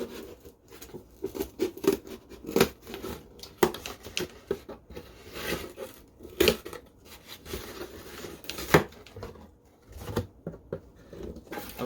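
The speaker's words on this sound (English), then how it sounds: "just poke my scissors in there" Scissors poked into and snipping through a cardboard box to form a handle during a kitchen pantry makeover, giving a close, irregular run of crunchy cuts and scraping patters with no talking.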